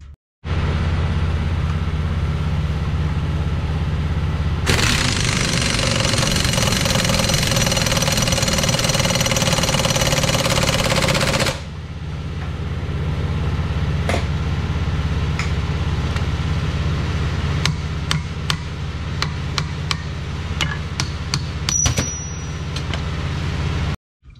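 An air compressor runs in a truck workshop, with a loud, steady mechanical drone that surges into a harsher, noisier phase partway through, then settles back to a steady run punctuated by sharp clanks and taps nearby.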